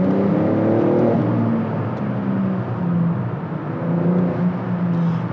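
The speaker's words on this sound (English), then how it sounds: "next up we got a tunnel approaching, so we should definitely check how the car sounds" A tuned BMW Touring with OPF exhaust drives through a tunnel, its engine and exhaust droning and swelling as it accelerates, with a booming echo and no talking.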